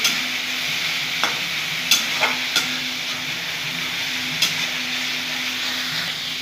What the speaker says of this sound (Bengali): ভালো করে ছাতলে নেব পেঁয়াজ বাটাটা